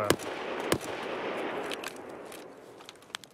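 Gunfire in the video game Escape from Tarkov: two sharp, loud shots near the start, then a softer burst of shots and faint distant pops over a steady background rumble.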